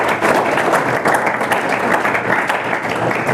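Students in a Delhi government school session for classes 8 to 12 applauding, a steady burst of many hands clapping together, loud and continuous for a few seconds without talk.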